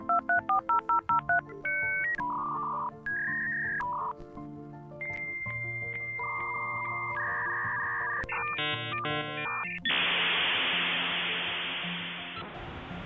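A PCM 5853 dial-up modem dials out with a quick series of touch-tone beeps, then longer alternating handshake tones and warbles, ending in a loud hiss of static noise.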